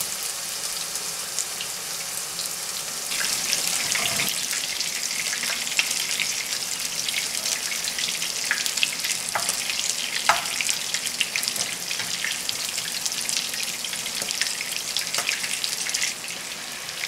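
Onions and garlic fry in a pan for spaghetti puttanesca, a steady close sizzle that swells slightly and carries a few soft crackles and scrapes.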